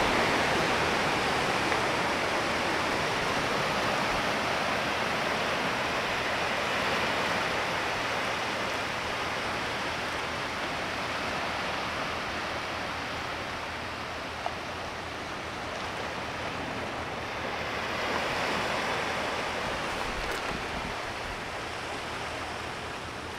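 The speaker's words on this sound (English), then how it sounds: "Sit back and enjoy the sounds of the ocean." Ocean surf rolls onto the shore during a hike as a continuous broadband wash, steady and moderately loud, swelling slightly near the end with no distinct individual breakers.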